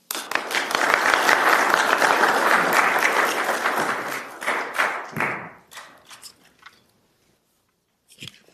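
An auditorium audience at a neuroengineering lecture applauds in a dense, sustained burst of clapping for several seconds, then thins to scattered claps and fades into silence before a faint sound returns at the end.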